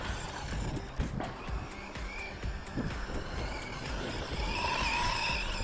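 A GPToys S911 rear-wheel-drive RC monster truck drives over uneven, sloping ground, its small electric motor whining steadily with bumps, scrabbling tyres and brief skids, close and fairly loud throughout with no voices.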